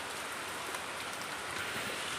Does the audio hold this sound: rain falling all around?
yes